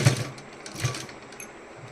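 A sewing machine stitches through thick denim cut from old jeans. It makes short, separate stitching bursts with pauses between them, heard close up.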